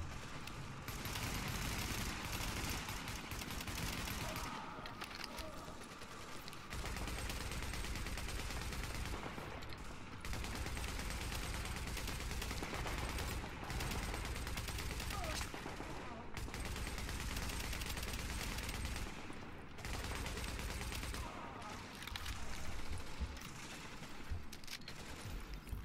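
Heavy automatic gunfire with strong recoil from weapons in the video game Tom Clancy's The Division, sustained loud bursts broken by short pauses, with mixed game effects and occasional speech.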